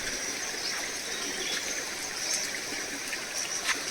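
Shallow stream of water running across a road in a Himachal village, a steady broadband rushing and trickling that stays close and even throughout, with no talk over it.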